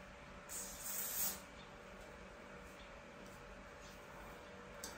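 Got2b Glued Blasting Freeze hairspray gives a short, faint hiss of spray near the start, followed by a quiet, steady room background.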